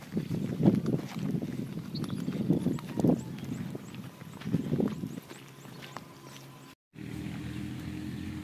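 Horses for sale walk on hard ground, their hooves clip-clopping in an uneven, moderately close rhythm for several seconds before the steps stop, followed by a low steady background hum.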